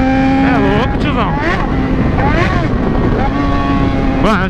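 An XJ motorcycle accelerates hard, its engine note sweeping up in pitch several times in quick succession, loud and close with heavy wind noise over the microphone.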